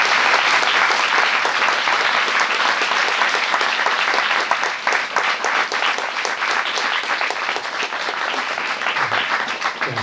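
Sustained audience applause for panelists after a talk on climate change in history and law, a dense, loud, even roar of many clapping hands that holds steady for ten seconds without talk.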